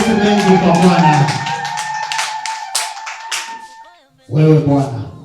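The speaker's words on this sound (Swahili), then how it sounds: "Piga makofi kwa Bwana." A congregation claps hands in quick rhythmic bursts at a lively church healing prayer, the claps sounding alongside a loud sustained voice before a brief lull and a final surge.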